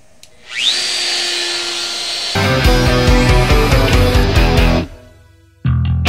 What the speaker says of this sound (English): I've got my router set to go just into this piece of wood, and I'm just going to route out the center